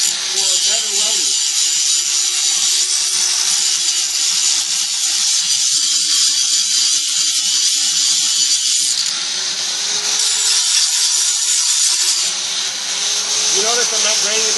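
A grinder works a steel plate on a Toyota Tundra truck rack, a loud, continuous high-pitched whine and grind with slight shifts in pitch as pressure changes, with someone talking over it.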